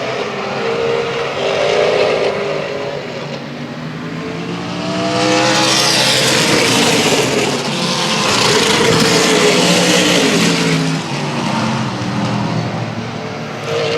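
Race cars roar around the Central Texas Speedway track after a restart, engines swelling and fading as the pack passes, loud and continuous with overlapping revving from several cars.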